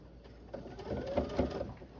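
Sewing machine stitching quilt pieces for a Roman Maniple block, a steady mechanical whir with rapid needle clatter that swells and eases in short bursts, running close and alone.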